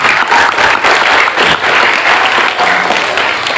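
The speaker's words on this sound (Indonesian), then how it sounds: "Tepuk tangan buat kalian semua." Loud, continuous applause from an audience at a Cirebon mask dance discussion in the regent's pendopo, dense clapping holding steady throughout with slight swells.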